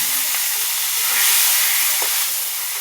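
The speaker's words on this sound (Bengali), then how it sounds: "দেখুন এই যে আমি ভাজছি, পটকাগুলো ভাজা হচ্ছে আস্তে আস্তে" Fish swim bladders fry in hot oil with a loud, continuous sizzling hiss that swells slightly in the middle, close up, with a few faint clinks.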